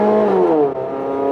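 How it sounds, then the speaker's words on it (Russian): A right-hand-drive Mazda Axela with the throttle floored from about 40 km/h, its engine note rising in pitch as it pulls, steady and close, interior sound with no talk. "газ в пол"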